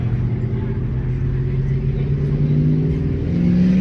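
An Audi R8's V10 engine idles and revs with a steady low-pitched drone at a car meet. It is loud and close and swells slightly near the end, with people talking nearby.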